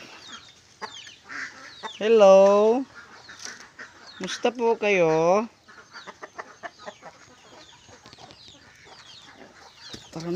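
Chickens clucking and squawking nearby, with a couple of loud harmonic calls standing out, while a person speaks briefly.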